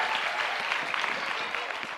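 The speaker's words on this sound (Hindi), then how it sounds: "तालियां जोरों से बजाइए शिवांगी के लिए, जोरदार तालियां बजाइए।" Audience at a quiz show claps for a contestant, a steady, fairly soft round of applause lasting a couple of seconds.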